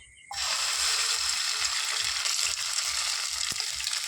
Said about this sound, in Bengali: দেখো তেল ছাড়াই ডিম ভেজে নিচ্ছে